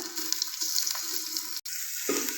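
Garlic and onion hit hot oil in a pot and sizzle with a bright, continuous crackle. There is one brief break partway through before the frying carries on.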